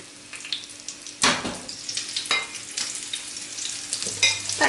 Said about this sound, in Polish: smażymy z jednej i z drugiej strony